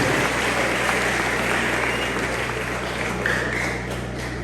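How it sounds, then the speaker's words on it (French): An audience claps steadily at a school fiftieth-anniversary celebration, a broad continuous wash of applause in a large room with a low hum underneath and faint background voices. "Je vous demande de l'applaudir."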